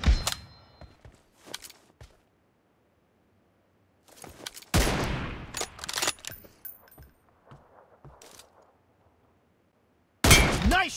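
Sniper gunfire from the M24 rifle in the mobile battle game BGMI: a few sharp, loud reports spaced several seconds apart, each followed by brief clatter and a short tail, with quiet gaps between.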